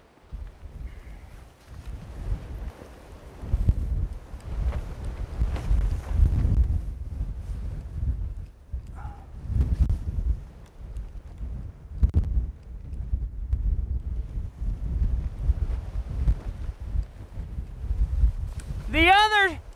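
Strong wind from an Alaska winter blizzard buffets the microphone in gusty rumbling bursts, with a person talking intermittently and a brief high tone near the end.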